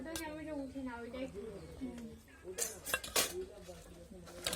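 Spoons clink against dishes in a village home kitchen while semai is served: a few sharp, quick metallic clinks cluster near the end, under ongoing conversation.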